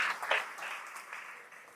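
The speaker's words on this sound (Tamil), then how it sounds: "ஒரு நல்ல கைத்தட்டல் கொடுத்துடலாம்" Audience applause at a Tamil debate show, a short burst of dense clapping that swells and then fades, with no talk over it.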